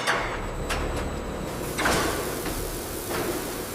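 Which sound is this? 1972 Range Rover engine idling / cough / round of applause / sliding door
sliding door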